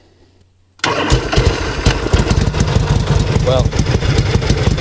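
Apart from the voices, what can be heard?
1965 Harley Panhead motorcycle engine cranking and starting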